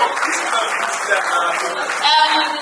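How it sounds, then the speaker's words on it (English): Audience clapping for a contestant at a tech competition finale, steady applause from a crowd heard under and alongside talking from a host. "A round of applause for him."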